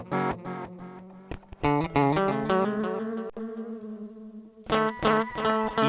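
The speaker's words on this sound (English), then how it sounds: "this is the echo" Electric guitar run through an echo setting on a CircuitPython-powered multi-effects pedal, sustained notes repeating and trailing off in echoes, with a brief pause before playing resumes, no talking.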